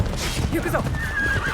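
A horse whinnies with a rising, wavering neigh in Assassin's Creed Shadows, amid game sound effects and background noise, with a voice talking over it.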